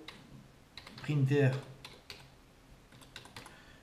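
Quick clicks of typing on a computer keyboard come in a short burst, with a brief voice sounding over the middle of the keystrokes.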